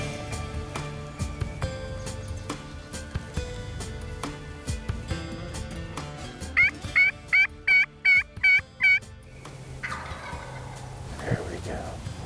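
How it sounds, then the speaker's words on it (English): A wild turkey gobbler during a spring hunt sounds off with a clear run of rapid, rattling gobbles, heard at moderate distance above steady background sound and scattered knocks. "We finally got this gobbler to sound off"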